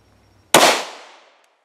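A single sharp shot from a 5.7 pistol firing SS-198 LF rounds at a Kevlar ballistic helmet, loud and close, with a bright crack that decays over about a second.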